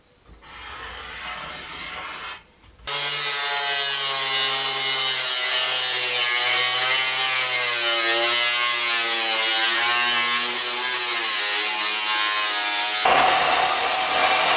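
A steady, loud power tool whine with a harmonic, slightly wavering pitch runs for about ten seconds after a brief scraping start, cutting a square out of material while fixing a Honda S2000 shifter.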